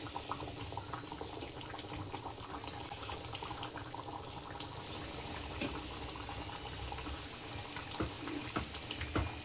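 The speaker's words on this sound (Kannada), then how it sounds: "ಕುದೀತಿದೆ. 10 ನಿಮಿಷ ಕುದೀತು, ಸಾಕೀಗ." A vegetable and green pea sagu curry bubbles steadily in a pot, a soft continuous simmering hiss with faint popping, alone and at even loudness throughout.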